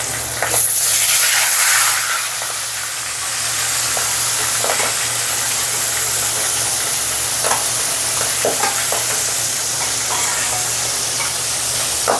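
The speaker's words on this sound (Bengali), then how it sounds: "দেখুন পাঙ্গাস মাছ দিয়ে দিচ্ছি, সবগুলো একসাথে ভাজা সম্ভব না, তাই 3 পিস আগে ভেজে নিব।" Pieces of pangas fish sizzling loudly in hot oil, a burst of hiss as a piece goes in, then a steady close frying crackle with occasional stirring clatter, no talking.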